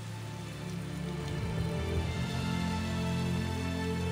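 Steady rain falls evenly in the video game Tales of Xillia, a constant hiss of drops on surfaces over a low background hum, with no voices.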